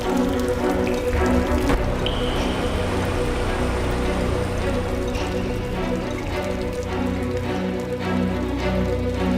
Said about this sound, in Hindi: पूरे प्रदेश में भारी बारिश का दौर जारी है।